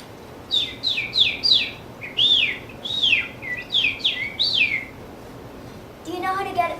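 A person whistles in imitation of a bird, giving a series of about a dozen close, bright downward-sliding chirps in short bursts, followed by a brief voice at the end.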